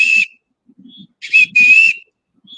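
A hand-held whistle blown by a person in several shrill, steady blasts: one short toot, a pause, then two longer blasts close together, loud and near with no talking.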